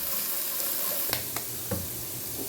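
In a hot pan of egg fried rice with garlic, an egg drops in and sizzles steadily, with a few sharp knocks of utensils against the pan over the frying hiss.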